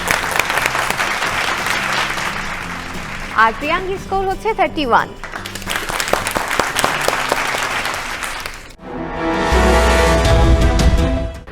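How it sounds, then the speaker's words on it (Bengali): Studio audience on a family game show bursting into loud, dense applause near the end, following a host speaking over a lighter clapping crowd and a short musical sting. "সবাই জোরে হাততালি"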